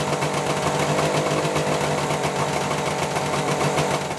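A Suzuki GT750 two-stroke motorcycle engine runs at steady high revs, loud and close, with a buzzing, rattling drone and no voices.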